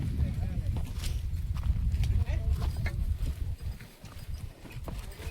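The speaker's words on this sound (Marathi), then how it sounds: "गाढवा यायला लागली." Donkeys' hooves clop along at a walking pace on the way up Rasalgad fort in Konkan, a steady rough rhythm under a busy outdoor murmur, with no clear words spoken.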